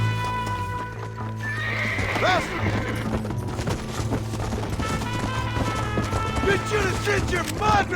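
Horses gallop and neigh during a gunfight chase in Red Dead Redemption, with rapid clip-clop hoofbeats, several whinnies and a few distant gunshots under shouting voices.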